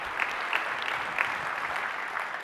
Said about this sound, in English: Another big round of applause for all the 3 DJs